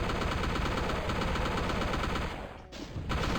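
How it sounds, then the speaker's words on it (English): Rapid, continuous gunfire from a weapon in the video game DOOM, loud and unbroken bursts that briefly drop out near the end before the shooting resumes. "Let's soften them up with a little bit of bullets"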